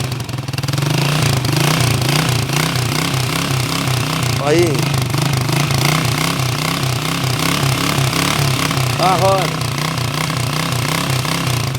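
A carbureted Honda CG motorcycle from 1999 runs out of gear, its engine thumping in a steady, loud, rhythmic idle close by. Someone speaks briefly over the uneven single-cylinder pulsing.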